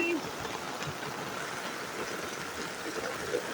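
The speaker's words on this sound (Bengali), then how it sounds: "ছাতা নিয়ে ঘুরতেছি বৃষ্টির মধ্যে, প্রচুর বৃষ্টি।" Heavy rain pours on a rooftop with running water, a dense, continuous rushing wash that holds steady and close throughout.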